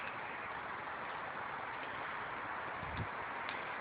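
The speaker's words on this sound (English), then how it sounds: "It's very, very windy here today, as you can probably hear" Strong wind blows steadily outdoors, a dense, continuous roar buffeting the microphone with low rumbling gusts and no voices over it.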